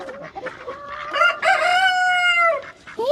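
A hungry backyard hen clucks close by, and her rising, drawn-out calls swell into a loud, sustained squawk before fading. No people speak over it.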